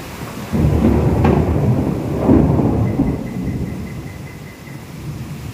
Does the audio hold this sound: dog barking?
no